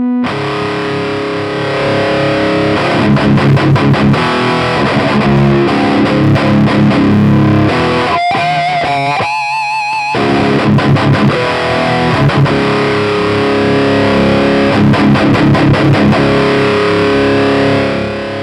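Heavily distorted electric guitar blasts loudly through a Harley Benton GPA100 power amp, chugging chords and sustained notes with a short noisy break in the middle.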